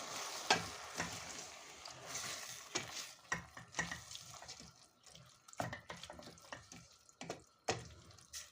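A spoon stirring a pot of vine leaf stew with added water and salt, close and quiet, with repeated knocks and clinks against the pot over a soft, steady simmering wash.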